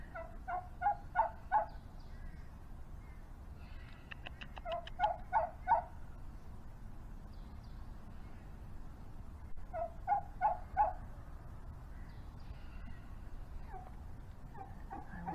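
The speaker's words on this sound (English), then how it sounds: "Now we know one of the sounds that a wild turkey does." A wild turkey gobbles outdoors in several short, rattling bursts spaced a few seconds apart, moderately distant over a steady low background rumble.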